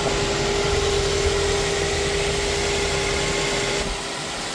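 A car engine runs steadily after a battery check, a loud continuous mechanical drone with a constant hum that holds throughout, then drops slightly in level near the end.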